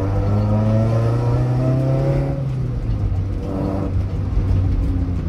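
Toyota Corolla AE92 with a 4AGE engine revving hard, a loud, steady, close-up engine roar that holds a high pitch before dropping and climbing again over about five seconds.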